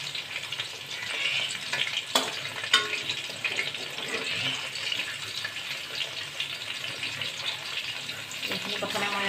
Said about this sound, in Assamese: মই এইখিনি প্ৰথমে উঠাই ল'ম আৰু গোটেইখিনি মাংস ভাজি ল'ম